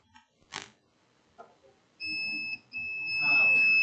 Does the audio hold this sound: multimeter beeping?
yes